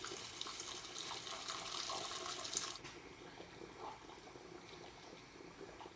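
A kitchen tap runs water into a pot for boiling noodles, a steady rushing splash that cuts off abruptly partway through and leaves quiet room sound.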